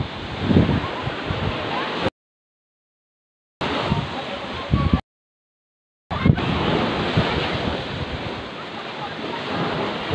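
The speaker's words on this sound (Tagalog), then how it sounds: "Makikita niyo sobrang ganda ng alon sa dagat." Steady broadband wash of sea surf on a beach with wind rumble, broken by two short silent gaps, continuing loud and close.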